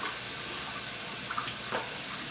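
Water running from a faucet as a spout is checked for leaks, a steady broadband hiss of flow with slight splashing changes, fairly faint and alone throughout.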